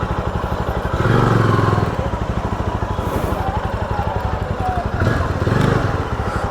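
A Jawa 42 FJ motorcycle engine rumbles with a rapid, pulsing beat close by, swelling in a couple of short revs before dropping back to a throbbing idle.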